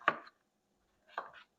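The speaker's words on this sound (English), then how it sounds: "So I'm going to slice all of my zucchinis." A knife cuts two slices through zucchini, including Palermo and green calabacita squash, on a cutting board. Each is a short, crisp chop with a gap of about a second between them.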